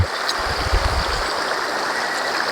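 A strong river current rushes steadily and loudly up close, a continuous broadband wash of flowing water with a few low thumps early on and no voices.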